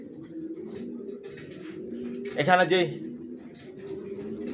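Baby racer pigeons coo in low, throaty rolls beneath nearby talking, with a louder burst of cooing and rustle near the middle.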